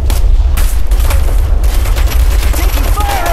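Gunfire in the military shooter Operation Flashpoint: Red River, a steady dense crackle of distant rifle and machine-gun fire rolling through a battlefield, continuous and loud across the whole stretch with no clear talk over it.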